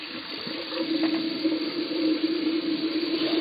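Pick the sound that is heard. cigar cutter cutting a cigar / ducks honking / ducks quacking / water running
water running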